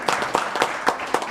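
A few scattered audience claps at a city council meeting, greeting a newly seated council member, sparse and moderately near with no talking over them.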